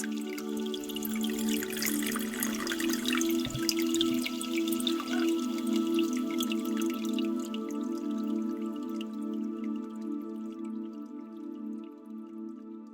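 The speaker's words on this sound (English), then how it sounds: "the sounds of the underground spring that flow along the walls wash over us" Water from an underground spring runs along the walls of a wine cellar, a steady close trickle and drip with a faint hum underneath, no voices.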